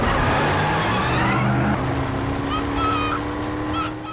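A car speeds away and is chased in a film action scene, its engine roaring loudly and continuously with rising pitch sweeps, and a faint voice in the mix.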